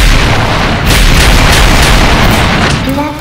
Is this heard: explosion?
yes